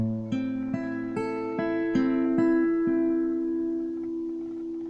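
A strummed guitar chord rings out, followed by several more single strums in a slow, even rhythm, each note sustaining and gradually fading; no voices.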